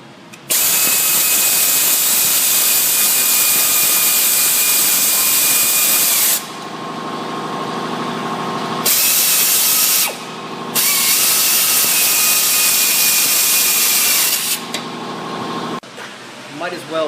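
A power ratchet runs nuts onto the tensioner mount of a Ford Taurus 3.0L 12-valve engine during a head gasket job. It gives loud, sustained whirring bursts separated by short pauses, with someone talking over it.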